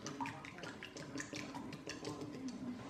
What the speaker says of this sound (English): Let's stir this around just a little bit.